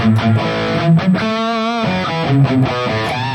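High-gain electric guitar through a 5150 amp model with the UK Modern setting, stock cabinet and EQ switched off, playing loud, saturated riffs with chugging palm-muted notes and a sustained chord in the middle, heard alone.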